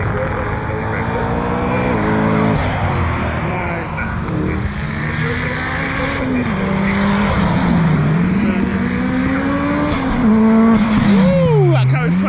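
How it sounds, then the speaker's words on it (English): Mitsubishi EVO 9 time attack race car lapping Anglesey circuit, engine note rising and falling through gear changes, loud and continuous, with a commentator talking over it. "Andy Grady in the Mitsubishi EVO 9. It's very consistent, that EVO 9 is, I'm telling you."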